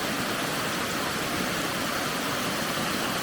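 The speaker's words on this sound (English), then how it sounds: "But beautiful waterfall." The Fall Creek Falls waterfall roars as a close, loud, unbroken broadband rush of falling water, steady throughout with no voices.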